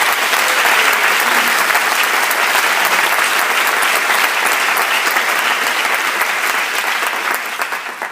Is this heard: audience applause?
yes